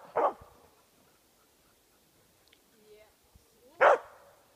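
A dog barks twice at an outdoor event, two short, loud barks several seconds apart with faint background sounds between them.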